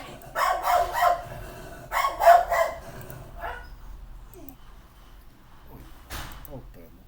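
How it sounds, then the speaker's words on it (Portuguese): A dog barking in repeated groups of sharp barks close by, followed by quieter sounds and a last bark, with speech mixed in between. "cachorro late"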